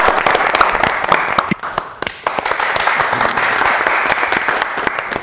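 An audience at a festive Eid anniversary gathering applauds loudly and continuously, a thick crackle of many hands clapping close by, with a brief voice at the start.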